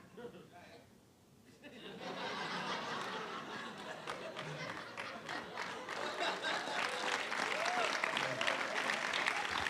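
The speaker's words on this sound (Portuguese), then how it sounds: "Não era para aplaudir" A church congregation claps during a service, the applause building from a lull into sustained clapping mixed with chatter and light laughter.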